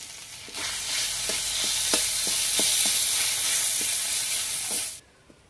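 Spices fry hard in a hot pan as spice-paste water is poured in, giving a loud, steady hiss with scattered light clicks and pops. It stops abruptly at the end.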